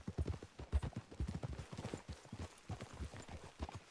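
In Red Dead Redemption 2, horse hooves clip-clop on the ground in an irregular, rolling rhythm, close and moderately loud, with occasional soft sounds from the horses.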